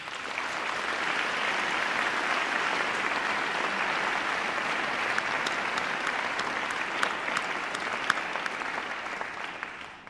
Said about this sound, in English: Please would you give them and yourselves a round of applause.